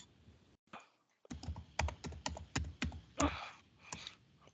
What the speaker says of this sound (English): Go to the command and type ipconfig.